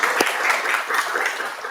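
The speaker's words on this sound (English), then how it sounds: "Let's get a clap." A room of people at a pitch day event claps briefly, a short, fairly close burst of many hands.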